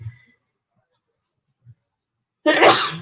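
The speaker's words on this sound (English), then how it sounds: "I'm going to sneeze" A single loud sneeze bursts out at the end after near silence and a few faint taps.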